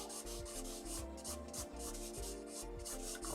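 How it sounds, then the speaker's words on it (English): The side of a pencil shades texture across drawing paper in rhythmic back-and-forth rubbing strokes, close and soft, repeating steadily with no voices. "Add some of the texture in that petal using the side of my pencil"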